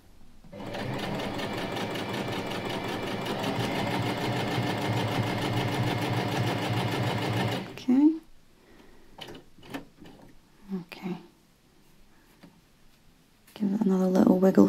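A sewing machine stitches fabric for a hair scrunchie, running in a steady, loud mechanical whir for several seconds, then stopping for scattered handling clicks before starting up again briefly at the end.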